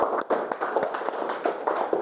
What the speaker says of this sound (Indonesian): tepuk tangan untuk Akbar